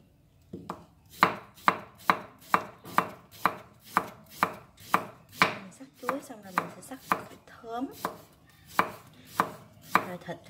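A knife slices beef on a cutting board in about twenty close, crisp, evenly spaced strokes, with a short irregular pause midway and no talking.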